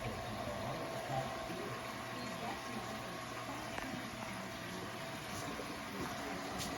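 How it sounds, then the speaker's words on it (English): Steady rushing water from a waterfall at the back of a 750-gallon aquarium, a continuous even wash with a low hum underneath, no talk. "This is a 750-gallon aquarium, and that's a waterfall in the back."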